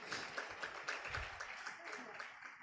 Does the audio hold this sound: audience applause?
yes